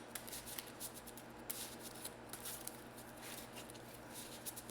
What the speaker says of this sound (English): And shuffle the villain deck here.